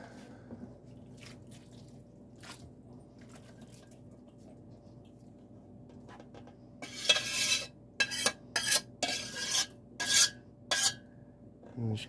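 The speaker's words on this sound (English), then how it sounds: "Now we can dump our mixture of the noodles and" Utensil scraping and spreading a tuna noodle casserole mixture with veggies in a baking dish, a quiet stretch with light clinks before a run of loud, rough scrapes in uneven strokes, close by.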